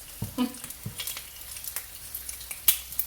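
An egg fries in a pan with its edges bubbling, giving a soft steady sizzle broken by scattered crackles and a few utensil scrapes and taps, close and without talking.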